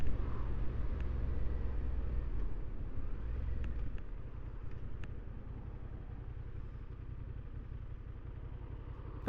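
A Honda Hornet 750 (2025) motorcycle with stock exhaust idles with a low, steady rumble close by, its throaty drone continuing evenly without revving or talk.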